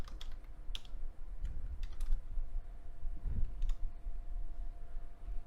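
Quick keystrokes on a computer keyboard tap out a word in short irregular bursts, close and fairly soft against a quiet room.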